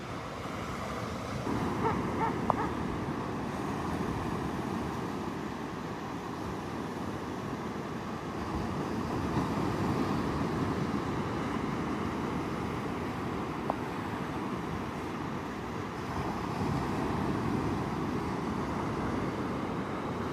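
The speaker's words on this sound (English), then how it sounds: "right now we've got a little north wind" A light north wind blows across the beach at Pawleys Island at sunrise, a faint, steady rushing hiss with soft surf beneath it, continuous and unbroken, no voices.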